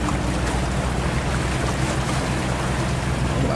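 A Binh Thuan double-trawl wooden fishing boat runs in at speed, its engine a loud, steady roar blended with rushing water and wind noise throughout, close and without talk.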